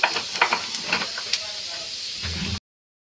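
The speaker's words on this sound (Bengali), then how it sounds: "এবার একটু সাদা জিরে ফোড়ন দিচ্ছি।" Cumin seeds sizzle in hot ghee for tempering during a home cooking session, giving a steady close hiss with faint pops before it cuts off suddenly.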